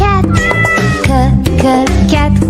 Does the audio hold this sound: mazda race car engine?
no